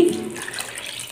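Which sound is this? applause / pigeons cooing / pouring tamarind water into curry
pouring tamarind water into curry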